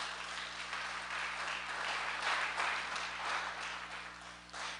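Congregation in a church applauding God during a service, a dense, steady wash of many hands clapping at moderate distance, swelling slightly midway with no voices.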